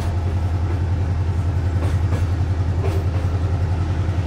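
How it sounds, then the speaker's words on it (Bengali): A cartoon train rolls steadily through rain, with a continuous loud low rumble and faint rhythmic clatter throughout; no speech. "বৃষ্টির ফোঁটাগুলো ভেদ করে ট্রেন তার নিজস্ব গতিতে সামনে এগিয়ে যেতে লাগলো"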